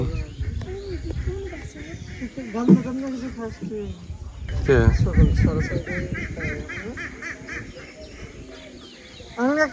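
Ducks quack and honk repeatedly nearby on water in light rain, calls overlapping, with a louder burst of noise midway and a steady wet background hiss.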